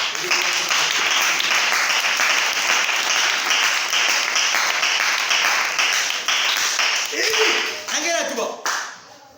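A church congregation applauding together in sustained, dense clapping that fills the space, then tapering off near the end as the clapping fades and a few voices remain.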